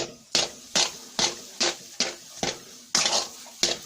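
A spoon scrapes and knocks against a pan while makhandi halwa roasts over low heat, giving sharp, regular metallic strokes about twice a second, close and clear with no talking.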